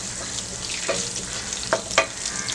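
Ginger, garlic and curry leaves sizzle steadily in a hot pan of oil for a spicy potato bhaji, with a few close scrapes of a spoon stirring through the crackling.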